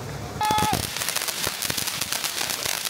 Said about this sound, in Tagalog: Aviana, you see the fireworks?